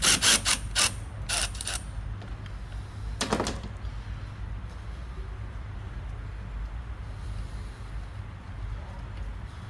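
A wrench ratchets and cracks a stuck stud loose during an AC condenser swap, giving a quick burst of sharp clicks followed by a second short snap, close and loud over a steady low shop hum.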